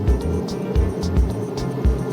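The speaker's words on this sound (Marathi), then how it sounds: "बघा एक बस गेली की दुसरी बस आली." Road traffic rolls past on a busy main road where buses come one after another, loud nearby engine rumble with repeated whooshing swells as vehicles go by.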